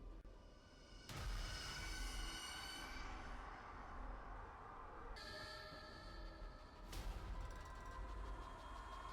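A train in the horror video game The Outlast Trials, a loud steady rumble of rolling railcars with a sudden onset, shifting metallic squeals and tonal whines, continuous throughout with no speech over it.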